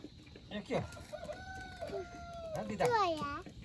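A rooster crows nearby at a Tihar festival celebration in Nepal, a few drawn-out calls rising and falling, fairly faint, with a voice and light chatter in the background.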